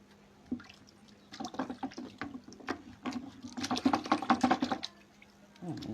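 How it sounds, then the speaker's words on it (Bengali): Printing blocks are washed in water, heard as close splashing, dripping and sloshing that builds in bursts and then fades, with faint running water underneath. "আমি আবার সবগুলো ব্লক এখন ধুয়ে ফেললাম"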